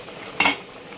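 A metal cooking pot of ginataang labong, coconut milk with bamboo shoots and saluyot, opened with one short, sharp clink of lid against rim, close and clear over a quiet room.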